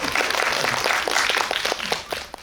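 A cinema audience claps at a guest visit screening event in a CGV theater, with dense, fairly loud, rapid applause sustained throughout; a faint voice may sit underneath.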